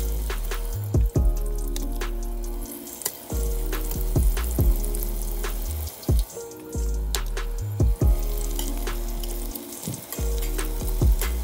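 Short ribs sear in hot oil in a pot, giving a loud, continuous sizzle and crackle throughout, broken by brief louder pops and clatters as the meat is moved.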